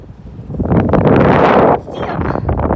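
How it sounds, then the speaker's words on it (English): Strong gusts of wind at an airport buffet the microphone, a loud rumbling roar that swells, briefly drops off, then picks up again, close and rough. "Windy."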